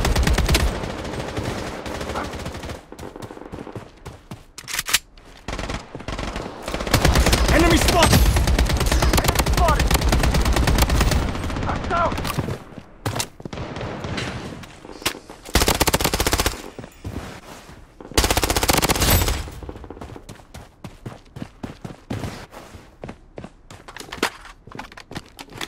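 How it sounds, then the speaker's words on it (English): Rapid machine gun fire crackles through a match of the video game Bloodstrike, with repeated dense bursts and single shots, loud and close, broken by short gaps and game voice callouts. "Taking fire!"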